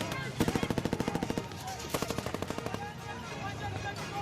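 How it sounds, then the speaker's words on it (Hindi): Bursts of automatic gunfire aimed at Baloch protesters in news footage, two rapid strings of shots lasting about a second each, with a rougher crowd-like background and some speech-like sound after them. "प्रदर्शन कर रहे बलूच लोगों पर फायरिंग की गई"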